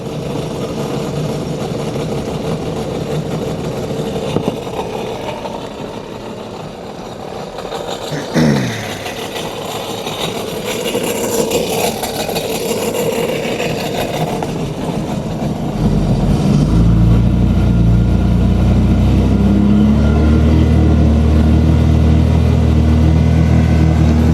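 A 2026 Sea-Doo Spark Trixx jet ski engine drones steadily and loudly nearby after an oil change, then surges into a stronger, sustained high-rev hum held at about 4,500 RPM, with no speech.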